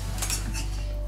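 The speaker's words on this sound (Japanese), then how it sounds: "タキリズムの中華鍋とお玉でーす。" A Takizrhythm wok and ladle clink, light metallic taps and scrapes close by over a loud low steady hum.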